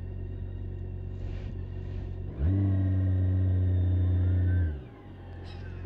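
BMW K1600GT SE six-cylinder touring motorcycle engaging reverse, a steady low motor hum rising in for about two seconds and then cutting off, close and with no talk.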